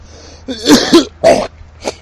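A few short, harsh coughs or throat-clearing bursts, close by and fairly loud, with brief pauses between them and no talking.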